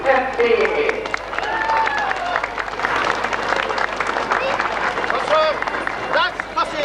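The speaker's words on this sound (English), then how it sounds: "So a big round of applause, ladies and gentlemen, for the FCA." Spectators lining the route of a passing FCA parade in 1996 clap and applaud, a moderate round of clapping mixed with crowd babble and nearby voices.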